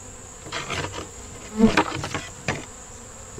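Honeybees buzzing at a double deep hive box, a close steady drone with individual bees passing near, no talk.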